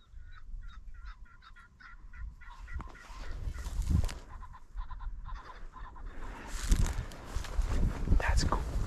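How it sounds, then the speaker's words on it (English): Birds call repeatedly in a chattering, honking chorus in a marsh on a rainy day, some near and some farther off, with a low rumble of wind or movement underneath. "the birds started communicating like crazy"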